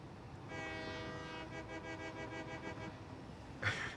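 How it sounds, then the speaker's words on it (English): A train horn in the video game Satisfactory sounds a loud, sustained honk for about three seconds and then cuts off, followed by a brief knock. "I could honk the horn."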